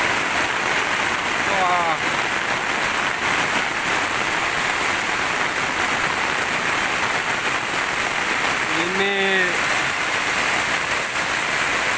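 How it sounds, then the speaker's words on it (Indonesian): Heavy rain pours steadily over Desa Sidokaton in Tanggamus as the village floods, a dense, loud wash of water noise that lasts throughout, with someone speaking briefly over it twice. "hujan deras sekali"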